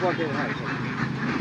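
Ducks from a flock raised by moving from area to area in Pabna district quack in a quick, close burst of several nasal calls that fill the short moment.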